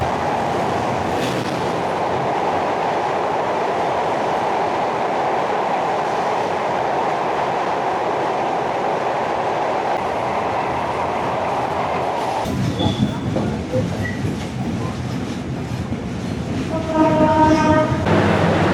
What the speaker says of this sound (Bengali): এই হলো রাতের পদ্মা সেতু রেলের ধাতব শব্দ